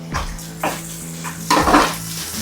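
Onions and green chillies sizzle in a hot pan, with steady frying hiss broken by several scraping stirs and metallic clinks of a spoon against the pan.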